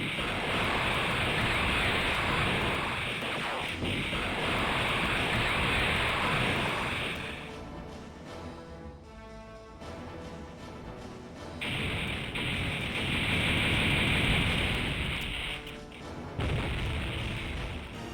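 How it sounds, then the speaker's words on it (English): A gun barrage in a spaceship battle from the game Infinite Space: a long, loud, roaring wash of booming fire that surges, dips briefly into a quieter rumbling stretch, then swells again, with no talking. "All guns, begin barrage."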